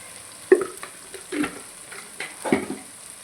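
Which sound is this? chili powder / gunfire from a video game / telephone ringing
chili powder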